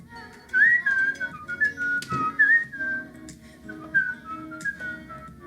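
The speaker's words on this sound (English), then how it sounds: "Oh, I could whistle it." A person whistles a lilting tune, bright clear phrases rising and falling with short breaths between, close and fairly loud, no talk.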